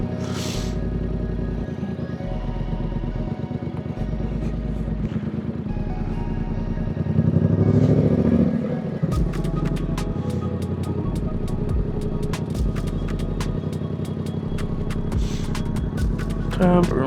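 A motorcycle pulls away under steady engine rumble, with a louder surge partway through as the rider struggles to find first gear; someone talks over the engine noise throughout.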